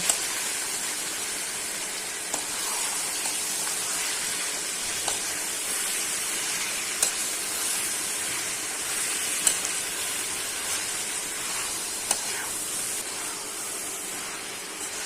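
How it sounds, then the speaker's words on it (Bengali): Shredded cabbage with cumin powder stir-fries in a pan with a steady, even hiss of sizzling, broken by occasional sharp ticks as it is tossed and stirred, close and continuous. "এখন পাতাকপিটাকে নেড়ে চেড়ে কষিয়ে নেব"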